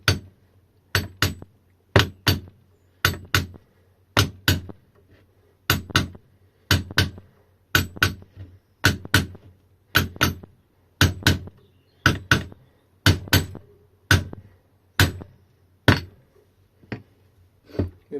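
Hammer taps on a Powacycle Salisbury e-bike hub motor to free a helical-cut gear, sharp metallic strikes in quick pairs and triplets, repeated steadily and close up.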